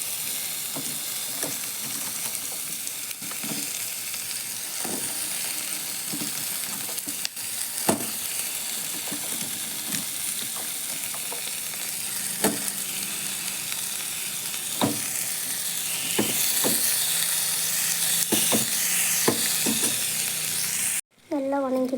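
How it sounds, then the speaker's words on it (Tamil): Shallots, cabbage, drumstick and garlic sauté in a hot pan for a South Indian dish, giving a steady close sizzle broken by frequent scraping stir strokes, with no talk. "சின்ன வெங்காயம் நல்லா வதங்கிட்டு இருக்குது."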